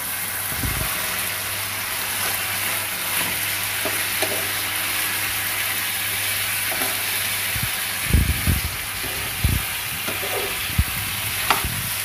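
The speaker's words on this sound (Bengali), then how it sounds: "এখন আমি চিকেনটা অ্যাড করে দেব।" Chicken pieces frying in hot oil for lemon garlic chicken, a steady sizzle with occasional clanks of stirring, close and without talk.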